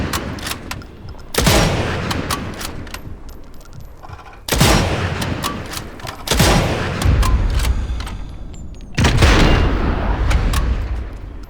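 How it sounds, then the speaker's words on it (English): Rifle rounds fire in a video game as four loud, sharp volleys spaced a few seconds apart, each with a booming rolling tail. A steady background din sits between the shots. "Here, let me fire off all my rifle rounds."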